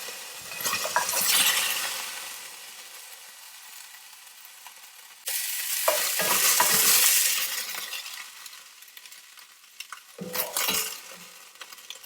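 Meat sizzles and spits in a very hot cast iron pan in loud bursts, with a clink of utensils and stirring between the louder stretches.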